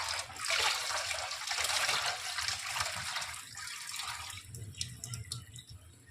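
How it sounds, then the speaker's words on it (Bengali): Rinse water is poured off washed mashkalai (black gram) dal, making a near, continuous splashing trickle that tapers into scattered drips and small sloshes. "তো এখন জলটা ফেলিয়ে নেব।"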